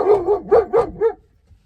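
A security dog barks in a quick burst of five loud, close barks over about a second, then falls quiet.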